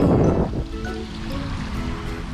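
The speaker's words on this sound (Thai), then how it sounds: "น้ำไหล" Water flows steadily in a stream through a natural area in a Korean city, a continuous wash and trickle heard nearby, louder at first and then settling into an even murmur.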